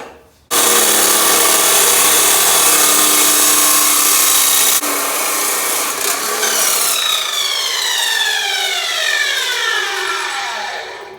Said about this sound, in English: This is my first time using this top chop saw in particular.